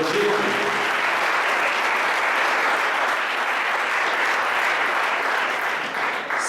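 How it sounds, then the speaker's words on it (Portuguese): A church congregation applauds at a Portuguese-language worship service, producing a dense, sustained wash of clapping that stays strong and even for several seconds. "Aplauda ao Rei de Jesus."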